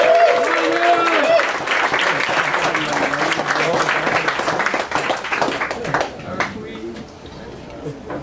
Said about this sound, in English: Another round of applause for Mina Wallen, everybody.